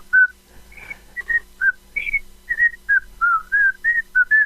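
A cockatiel whistles the Andy Griffith theme song, a string of about a dozen clear, bright tonal notes in a bouncy melodic rhythm, close and alone against a quiet background.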